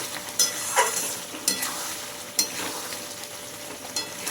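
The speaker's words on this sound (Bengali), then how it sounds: "নাড়াচাড়া করে মিশিয়ে নিচ্ছি।" Fried spices are stirred into a Bengali village-style hog plum (amra) pickle in a pan, a soft sizzle with a few distinct scraping strokes spaced about a second apart.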